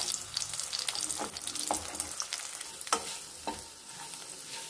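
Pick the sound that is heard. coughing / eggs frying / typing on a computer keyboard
eggs frying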